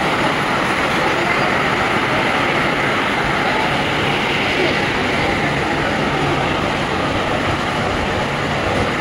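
A train runs near Sealdah station in a loud, continuous rolling rumble with a rhythmic clatter of wheels on rails, heard from close by without a break.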